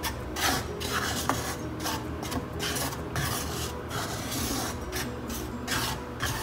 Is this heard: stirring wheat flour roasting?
yes